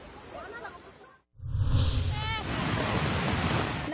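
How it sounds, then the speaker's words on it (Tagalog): Rushing floodwater from a river overflowing its banks in Maasim, Sarangani: a loud, steady broadband roar that starts abruptly after a short stretch of talking and a brief pause. "Malakas na ragasari ng baha ang pinangambahan ng mga residente matapos umapaw ang tubig sa ilog"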